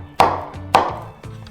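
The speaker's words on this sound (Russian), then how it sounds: "Нарезаем его." A knife cuts through a red banana on a board, giving three sharp chopping taps with short pauses between them, close and clear.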